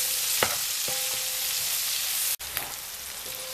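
Chopped onion fries in a pan with a steady, close sizzle, broken by a couple of soft stirring scrapes and one brief dropout, with no talking.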